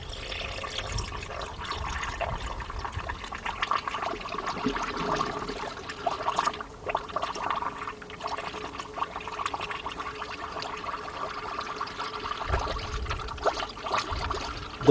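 A gallon of fluid is poured into the engine of a 1999 Dodge Dakota Sport with a 3.9 engine, a continuous gurgling, splashing pour with bubbling, close and steady for the whole stretch, no talk.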